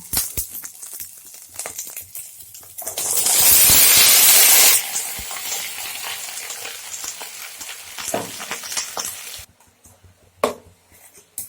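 Giant taro (mankochu) pieces drop into hot oil in a pan with dried sidol, setting off a loud burst of hissing sizzle that settles into steady frying with clinks of a utensil, then fades.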